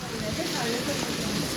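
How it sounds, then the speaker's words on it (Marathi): Heavy rain pouring down during a downpour, a continuous dense hiss and patter filling the scene with faint talk underneath. "पण फुल जोरात आला पाऊस"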